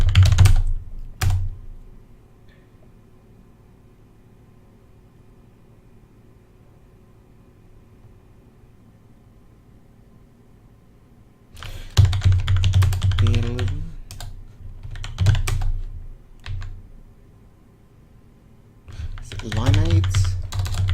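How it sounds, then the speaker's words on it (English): Bursts of typing on a computer keyboard, rapid clustered key clicks separated by long quiet gaps, fairly close, with a voice speaking briefly between them. "What is that typing?"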